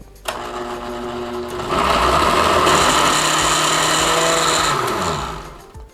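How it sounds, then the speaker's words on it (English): Electric blender whirring as it blends spice paste with oil, starting with a click and a lower hum, then rising to a loud steady motor whine for several seconds before winding down, close and alone. "I need to do is pretty much to blend all this blended spice. I'm gonna use oil to blend it"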